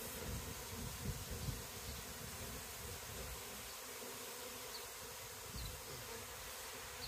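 A swarm of honey bees buzzes in a steady, dense drone on a windy morning, with a few louder passes near the microphone against a quiet background.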